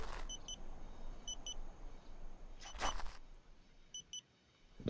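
Faint high electronic beeps repeat in small pairs over a low background hum, with one brighter burst of noise partway through.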